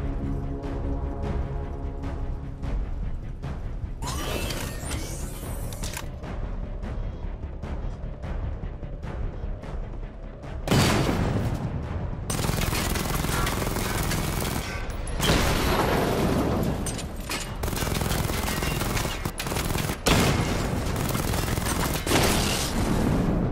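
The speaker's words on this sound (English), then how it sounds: "Destroy targets to charge up weapon energy and activate missile barrage." Rapid weapon fire and missile barrages erupt in Batman: Arkham Knight, dense bursts of explosions and gunfire surging loudly in waves, intensifying in the second half into near-continuous booming.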